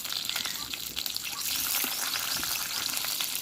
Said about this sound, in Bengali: এরপর দিয়ে দেবো 2টো তেজপাতা, 2টো কাঁচা লঙ্কা, এরপর দিয়ে দেবো 5 ফোড়ন